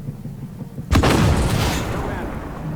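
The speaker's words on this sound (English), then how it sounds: "looks like this guy's firing off some missiles here" A missile is launched in the tank game Armored Warfare, giving one sudden, heavy boom that rolls into a long rumbling roar and fades slowly.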